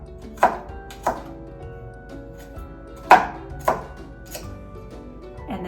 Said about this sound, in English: And cut them even smaller.